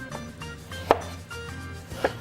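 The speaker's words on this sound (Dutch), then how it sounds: "Dus dan kies dat die mooie lichte stikjes snijden." A knife chops fresh asparagus into small pieces on a board, with a few distinct close knocks and sharp cuts over a couple of seconds and no talking.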